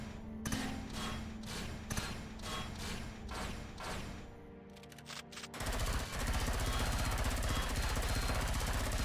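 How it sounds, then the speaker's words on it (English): Rapid, evenly spaced shots fire in a space shooter video game, a rattling series that stops briefly and then gives way to a dense, continuous roar of noise. "I hear gunshots."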